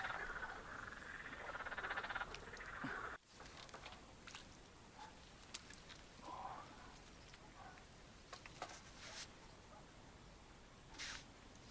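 Faint frogs croaking in the distance amid outdoor ambience at a fishing spot, with a few soft clicks and rustles scattered through.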